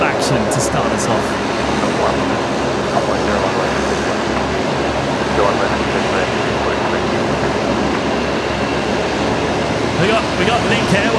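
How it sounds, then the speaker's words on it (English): A Link Airways Saab 340 turboprop departs Brisbane Airport, bound for Tamworth. Its engines give a loud, steady low drone that runs without a break, with voices talking over it. "We got Link Airways heading out now. They're going to Tamworth, another Saab 340."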